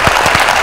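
A brief, loud burst of audience applause at a live music and comedy show, a dense wash of clapping lasting under a second.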